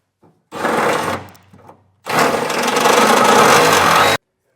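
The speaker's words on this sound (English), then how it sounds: "So I'm going to use a step bit and get this opened up" Step drill bit enlarging a hole in the steel frame of a 2025 Ram 2500 truck, two sustained loud grinding bursts of about a second and two seconds separated by a short pause, close and alone.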